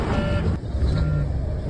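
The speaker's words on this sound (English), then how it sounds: "So now I'm cutting on my truck." Semi truck engine being started for a pre-trip inspection: a loud, close, steady diesel rumble with a thin beeping tone over it and a brief dip partway through.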